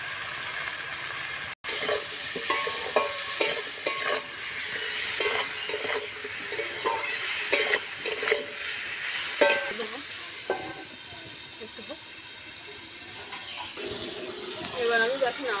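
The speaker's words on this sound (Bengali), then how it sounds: "এবার আমি দেখেন আমার সবজিটা ভাজা ভাজা হয়ে গেছে" Green pumpkin being stir-fried with salt, turmeric and coriander powder in a pan over a mud oven. Repeated scraping stir strokes over a soft sizzle, with a person talking intermittently.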